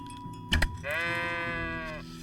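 A sheep in the medieval game Kingdom Come: Deliverance lets out one clear, sustained quavering bleat, preceded by a couple of short thumps, over a quiet ambient music bed.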